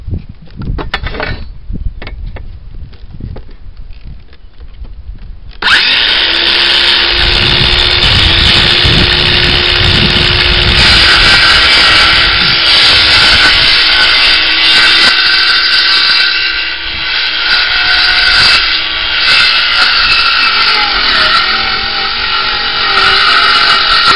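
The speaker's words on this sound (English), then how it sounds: "then I'll cut it with my skill saw. This is just a little battery powered Firestorm." A small battery-powered Firestorm circular saw cutting a board: after a few quiet seconds the motor spins up and the blade bites in, a loud, sustained whining roar that holds steady for the rest of the cut, no talk.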